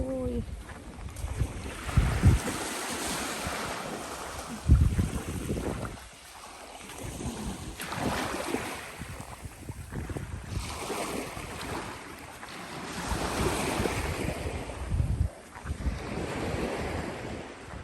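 Sea waves washing onto a beach at Blackpool in repeated surges as the tide comes in, with steady wind buffeting the microphone throughout; no voices.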